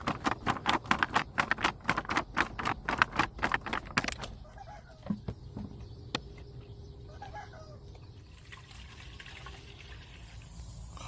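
A rooster and hens cluck in a quick run of sharp calls for several seconds in a garden, then fade to quieter, scattered sounds over a soft background hum.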